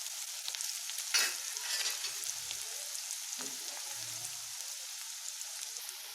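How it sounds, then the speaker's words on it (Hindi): Onions fry in a pan over a medium flame with a steady, close sizzle, broken now and then by brief stirring scrapes and clinks. "अब इसे हमें प्याज को 1 से 2 मिनट के लिए भूनना है, ताकि थोड़ा सा ये सॉफ्ट हो जाए और इसका कलर चेंज हो जाए"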